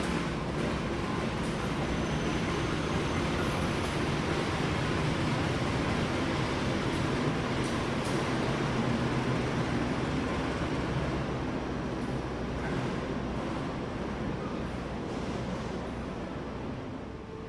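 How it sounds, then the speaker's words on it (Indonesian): The Argo Anjasmoro express train runs into platform 2 at Gambir station, a long, steady, loud rumble and rush of rolling wheels that fades slightly toward the end. "Yang masuk di jalur nomor 2 itu adalah kereta api Argo Anjasmoro dari Gambir tujuan ke Surabaya Pasar Turi"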